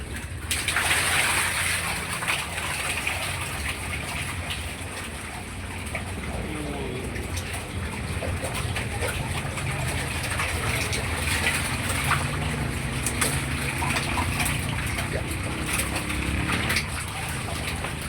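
Water gushes and splashes continuously into a catfish tub, with a person talking intermittently over the steady rush.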